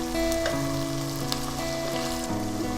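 Masala spices sizzle and fry steadily in oil reused from browning onions for a Bengali hilsa fish pulao, a close, continuous crackle with tonal kitchen hum and no talking.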